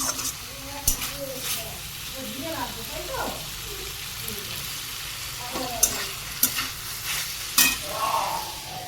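Ridge gourd, tomato and onion frying in a pan, with a low continuous sizzle, scattered spatula stirs and clinks, and a few faint voices in the background.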